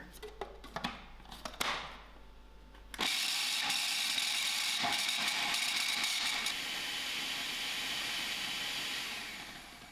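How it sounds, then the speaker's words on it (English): After a few seconds of clicks and handling noises, a mixer grinder starts up and whirs loudly and steadily while grinding green chilies with mint, then winds down at the end. "I will allow this to grind till it's smooth."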